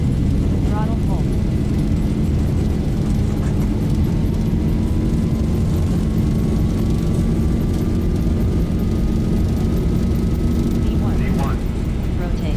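Airliner engines spooling at takeoff thrust in the Zibo 737 flight simulator, a loud steady roar with a rising whine, with a voice calling out over it.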